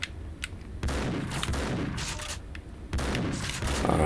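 Loud shotgun blasts in the video game Max Payne 2, a few heavy booming shots with dense gunfire crackle filling the stretch, no talk over them.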